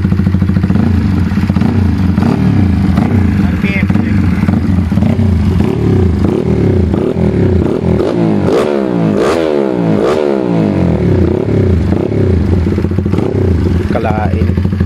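A red RS 225cc motorcycle engine revving hard nearby, loud continuous exhaust roar with rising and falling throttle blips through the middle, while people talk over it.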